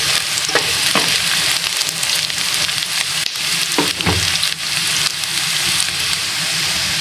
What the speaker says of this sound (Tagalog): yung bawang sa sibuyas ay medyo mag-brown para mabango